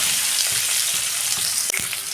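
Onion fries in hot oil with black cumin seeds, giving a dense, steady sizzle close by. A brief knock from a utensil against the pan cuts in near the end.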